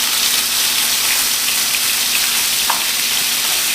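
Ground meat sizzles loudly in a pan as it is broken up: a dense, constant frying hiss with small scattered pops, close and continuous, with no talking.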